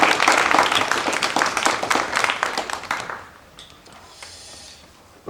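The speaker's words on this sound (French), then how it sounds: "On peut l'applaudir." A council-meeting audience gives a short round of clapping to welcome a new staff member, with dense overlapping claps and a few breaths that fade out after about three seconds, leaving quiet room tone.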